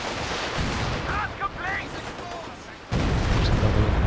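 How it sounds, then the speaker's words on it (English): Stuka dive bomber barrage explosions in the WWII strategy game Company of Heroes 2 during a 2v2 match, heard as a loud continuous rumbling roar with a heavy burst near the end, plus whistle-like tones in the middle. "There's another Stuka barrage."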